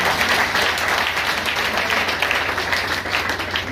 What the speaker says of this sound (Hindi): एक जोरदार तालियां उनके लिए।